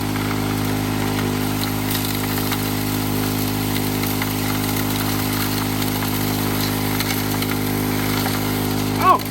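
A Keene KT10 trommel running outdoors to clear moss, a steady motor drone with a low hum, continuous and fairly loud throughout with a small bump at the very end.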